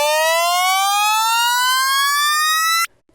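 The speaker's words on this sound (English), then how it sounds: "We're starting to get that trap rise sound" A synthesized trap rise effect: a bright buzzy tone glides steadily upward in pitch for about three seconds, loud and unbroken, then cuts off sharply into near silence.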